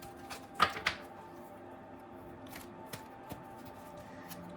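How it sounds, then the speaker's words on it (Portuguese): Tarot cards being shuffled indoors: two quick papery riffles near the start, then a few faint, soft card taps and slides in a quiet room. "vamos fazer aqui, embaralhar as nossas cartas."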